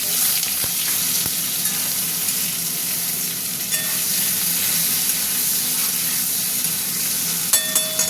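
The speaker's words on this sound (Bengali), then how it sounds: "গরম হয়ে গেছে, আলুটা দিয়ে দিচ্ছি।" Potatoes dropped into hot oil for a spicy soybean-potato curry fry with a steady, close sizzle and hiss, a few clicks of stirring and no voices.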